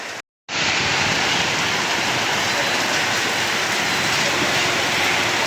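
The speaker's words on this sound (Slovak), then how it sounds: "sa nám to tu trošku rozlialo, ale našťastie sa tu dá v rôznych obchodíkoch skryť pred tým dažďom" Heavy rain pours down steadily outdoors, a loud, dense hiss that starts abruptly after a brief silent gap and continues unbroken to the end.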